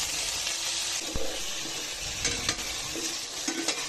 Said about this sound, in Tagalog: Iprito natin ang carrot at patatas. At halu-haluin.